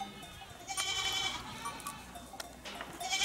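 Honamlı goats bleat in short, strained calls several times over a steady outdoor background, moderately close, with no talk.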